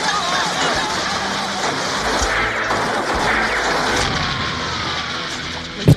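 Gunfire in a film shootout, heard as a dense, chaotic mix of shots, crashes and impacts that runs throughout, with a sharp loud bang at the very end.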